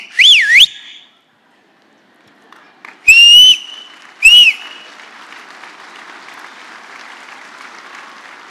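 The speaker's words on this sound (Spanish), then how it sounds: "Entonces silbaba." A person whistles to call their children: sharp, loud, rising-and-falling whistled notes come in three short bursts with gaps between them, followed by faint background crowd noise.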